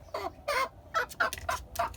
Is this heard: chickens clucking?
yes